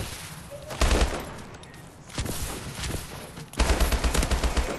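Rapid video game gunfire comes in three bursts of machine-gun fire, loud and close, with short quieter gaps between volleys.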